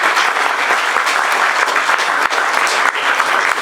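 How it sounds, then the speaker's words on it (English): Dense, steady applause from an audience welcoming author Daniel Rachel at a Rock Against Racism event, a loud, continuous wash of clapping with no voices over it. "Round of applause, Daniel Rachel."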